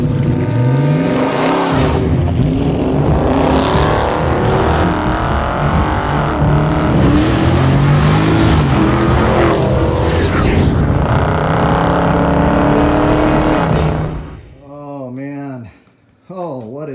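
A 2021 Dodge Charger Scat Pack with Carven 5-inch black ceramic-coated exhaust tips revs loudly, its throaty exhaust roar swelling and falling through long sustained pulls before cutting off abruptly near the end.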